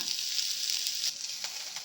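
Onions sizzle steadily in hot oil in a pan, frying for onion chutney. The crackle is close, even and continuous, with no voices.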